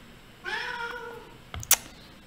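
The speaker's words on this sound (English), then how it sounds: "I've got a cat that really wants to be in this video" A house cat meows once, drawn-out and fairly close, in a quiet room, followed by a couple of soft clicks or taps.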